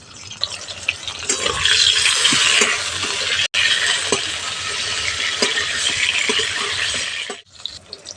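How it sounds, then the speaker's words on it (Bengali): Pointed gourd (potol) pieces frying in hot oil, a loud, steady sizzle with stirring scrapes running nearly throughout, briefly cut once and fading near the end. "হালকা লাল করে পটলগুলো ভেজে নিতে হবে।"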